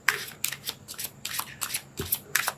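Tarot cards being shuffled by hand, a series of crisp riffling bursts repeating in an irregular rhythm, close and moderately quiet with no talk.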